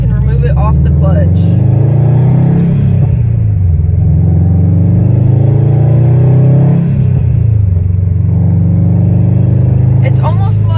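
A manual-transmission car engine rumbles up and revs as the vehicle pulls away off the clutch, the pitch climbing and dropping through gear changes, loud and close inside the cabin.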